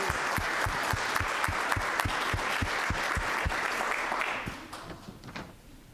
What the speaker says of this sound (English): Let's give Caden and his family another round of applause.